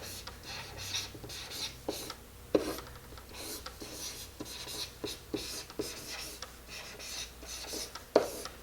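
Marker strokes on a board during an algebra lesson: steady dry squeaking and rubbing with short sharp taps where strokes start and end. The sound stays faint and close, and no one speaks.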